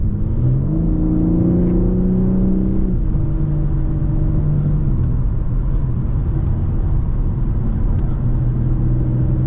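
A 2023 BMW M3 Competition xDrive pulls hard from inside the cabin, its engine note climbing through rising harmonics, dropping at a shift, then holding a loud steady drone with constant road rumble throughout.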